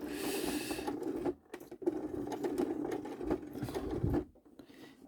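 A sewing machine stitches slowly through thick fabric layers for a pouch, its needle tapping in close, steady bursts with two brief pauses, moderately quiet and with no talk.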